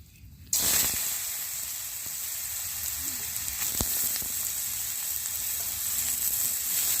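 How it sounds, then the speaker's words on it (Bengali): Cut potatoes frying in hot mustard oil in a pan give a loud, steady sizzle that starts abruptly and crackles on without a break. "আলুগুলো এখন আমি ভেজে নিচ্ছি"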